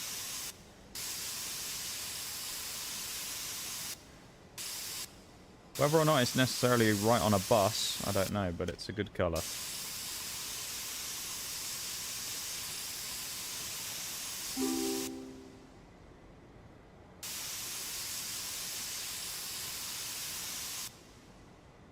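Spray paint hisses onto a bus in a video game in long steady bursts with short pauses between them, while a man with a British accent talks over the spraying partway through.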